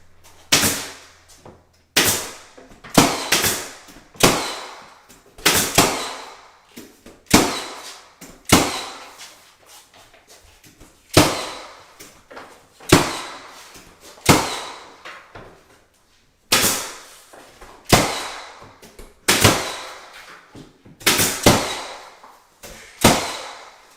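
A trim nail gun fires into interior trim in a steady series of sharp, loud pneumatic shots, about one every second or two, each with a short hiss, pausing briefly partway through.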